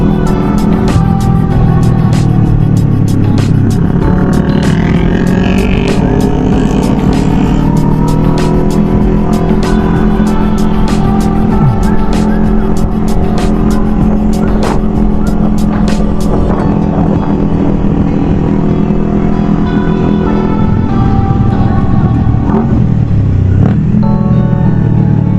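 Sport motorcycles including a Yamaha R25 and Kawasaki H2 riding together on a Sunday morning run in Senayan, with loud sustained engine drone, rising revs and shifting pitch mixed with heavy wind rush throughout.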